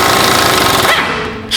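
An impact wrench with a 12 mm socket hammers away at a bolt on the rear subframe of a Nissan Altima, a loud continuous rattling burst up close that cuts off near the end.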